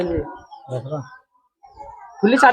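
A Murshidabadi Tamlar pigeon coos in short low bursts, close to the mic, with a pause between calls and a fuller burst of noise at the end; no one speaks.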